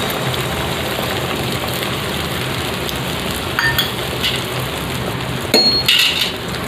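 Eggs frying in mustard oil in a wok, a steady crackling sizzle throughout with a few louder pops and a clink of utensils near the end.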